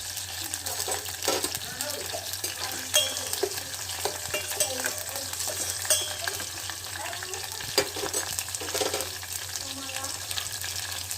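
Curry leaves, mustard seeds, cumin and green chillies frying in hot oil, a dense steady crackle and sizzle with scattered sharp pops, heard close throughout.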